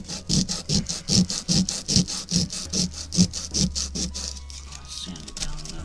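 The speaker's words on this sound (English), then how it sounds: "Sand it down a little bit." Wood from a Bible-themed Christmas tree project is sanded by hand, giving rhythmic back-and-forth scratchy strokes, about two per second, close and moderately loud, with a faint hum underneath toward the end.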